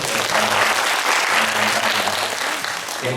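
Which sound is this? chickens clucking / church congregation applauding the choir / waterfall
church congregation applauding the choir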